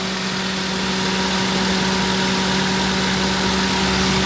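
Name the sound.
car engine idling during inspection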